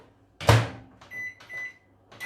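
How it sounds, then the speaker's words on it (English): A microwave door thunks shut while chocolate is being melted, followed by a few short electronic beeps from the keypad, close and fairly quiet, with no voices. "But you can melt it in the microwave if you just take your time and you're careful with it"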